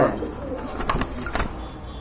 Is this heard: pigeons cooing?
yes